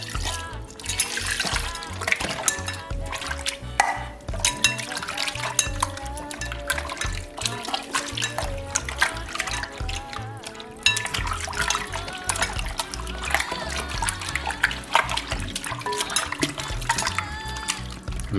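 Water runs and splashes into a deep bowl in a kitchen sink as raw chicken is washed with white vinegar and water, a continuous loud trickle with clinks of dishes.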